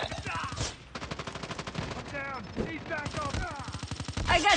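Call of Duty battle royale gunfire: rapid bursts of shots repeat throughout, mixed with game voice callouts and other chatter, at moderate loudness.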